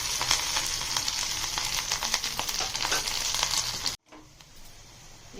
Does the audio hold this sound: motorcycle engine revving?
no